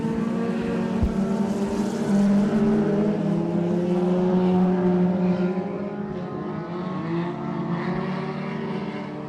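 Late model race cars roar around I-37 Speedway during a heat race, a loud, layered engine drone with rising and falling pitches as several cars pass close by, fading slightly toward the end.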